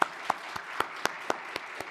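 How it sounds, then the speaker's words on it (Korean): A church congregation claps to welcome new members at a Sunday service, a faint, sparse rhythm of single distinct claps spaced evenly, roughly four per second. "우리 박수로 축복하겠습니다."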